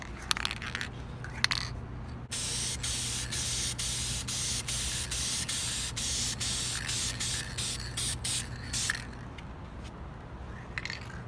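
Spray paint in Chrysler Corporation blue hissing onto engine parts for a 1967 Dodge Coronet overhaul, one long continuous close burst after a few short taps and rattles, then brief sprays at the end; no talking.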